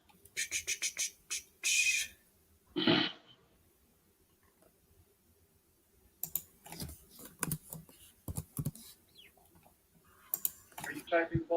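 Computer keyboard typing in quick bursts of clicky keystrokes, with pauses between flurries and some faint speech in between.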